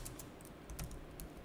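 Quiet, close clicks of computer keyboard keys being pressed, a few light taps scattered irregularly, as during a Ctrl+F search shortcut.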